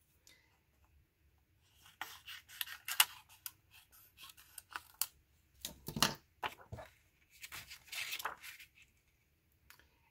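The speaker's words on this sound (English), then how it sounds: "So I need to trim this side down a little bit." Scissors trim the edge of a window sheet during stained-glass-style cardmaking, a run of close, crisp snips in irregular bursts with short pauses between cuts.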